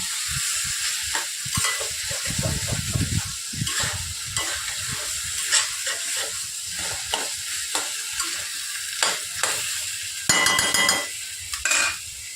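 Squash cooking down with sugar in a pan, stirred with irregular close scraping and clattering strokes over a gentle sizzle, with a louder burst of hissing toward the end.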